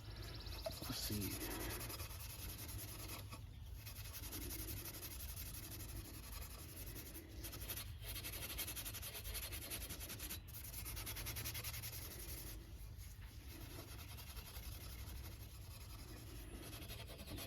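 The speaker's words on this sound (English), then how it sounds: "I'm just going to see how well, you know, it does with a little steel wool and 3-in-1 oil" Steel wool soaked in 3-in-1 oil scrubbing surface rust off Cadillac seat rails, a steady raspy back-and-forth rubbing with brief pauses between strokes, close by and fairly quiet.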